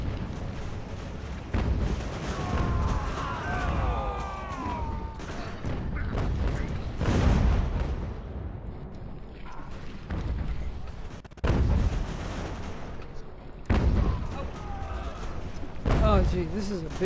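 Artillery and musket fire in Ultimate General: American Revolution, repeated heavy booms and crackling volleys spaced every few seconds, with someone talking over parts of the battle.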